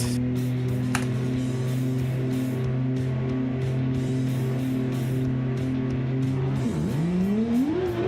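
Drift cars in BeamNG on the Long Beach street course hold a loud, steady engine drone with crackling bursts, then the pitch drops sharply and sweeps back upward as one car downshifts and accelerates hard.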